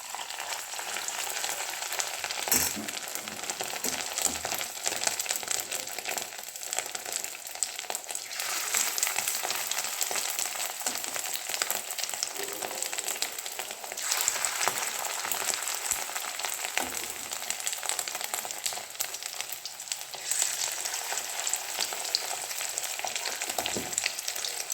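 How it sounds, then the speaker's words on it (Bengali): Fish fritters (bora) fry in hot oil with a dense, continuous crackling sizzle that holds steady at moderate loudness throughout, with a few louder pops. "দেখো ফ্রাই হচ্ছে,"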